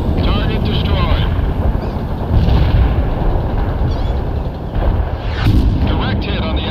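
Artillery strike explosions in the World in Conflict strategy game form a dense, continuous rumbling barrage with heavy booms rising and falling, under radio-style voices talking throughout.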